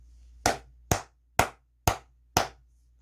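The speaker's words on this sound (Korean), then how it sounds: "미리 축하하고 대단하다는 의미에서 박수 한번 치고 가도록 하겠습니다" Five sharp hand claps from one person, close and evenly spaced about half a second apart, each ringing briefly in an otherwise quiet room.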